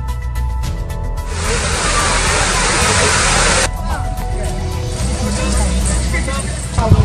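Waterfall at a hill-station tourist spot near Kodaikanal, a steady broad rushing roar of falling water that cuts abruptly partway through, leaving quieter outdoor ambience with faint background voices.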